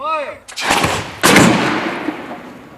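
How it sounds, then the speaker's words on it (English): A cannon fires a 2x4 wooden board at over 160 km/h into a test structure in a tornado-damage experiment: a loud, sharp blast followed by a second heavy crack of impact, with a lingering rumble and debris noise. "Schiff and his team at Clemson University fire 2x4s at more than 160 kilometers per hour into a variety of structures to represent the damage done during a tornado"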